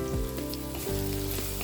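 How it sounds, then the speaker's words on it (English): Onion sizzling in hot oil in a pan over medium heat, with garlic already in the pan, a steady close frying hiss and crackle. "Fry onion in medium heat."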